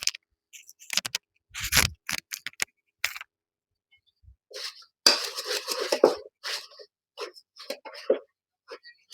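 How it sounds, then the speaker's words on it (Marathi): Corn chaat with onion, tomato and raw mango being mixed in a bowl, with irregular clinks and scrapes of a spoon against the dish in short bursts separated by pauses, close up. "कैरी टाकल्यानंतर त्याला चांगलं आता मिक्स करून घ्यायचं."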